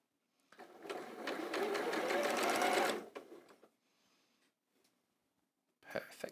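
A sewing machine stitches quilt blocks in a loud, steady whirring run of about two and a half seconds, followed by a quieter pause and a brief burst of handling noise at the end.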